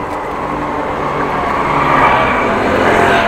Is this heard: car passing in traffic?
yes